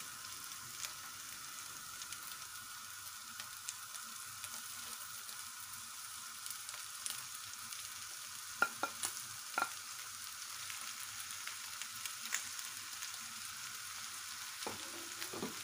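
Fried eggplant is poured over meat in a pan, giving a faint, steady crackling sizzle. A few brief clinks and scrapes from stirring or utensils come through, and no one speaks.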